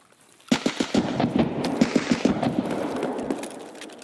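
Rapid bursts of automatic gunfire in the video game Escape from Tarkov, loud and close with sharp repeated cracks over a sustained noisy wash and no talk.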